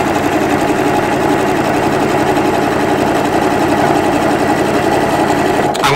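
Sewing machine running a triple zigzag stitch through quilt binding, a steady close mechanical whirr and rapid needle clatter held continuously, stopping abruptly at the very end, with no talking.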